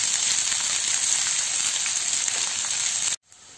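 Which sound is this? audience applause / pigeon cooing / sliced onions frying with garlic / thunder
sliced onions frying with garlic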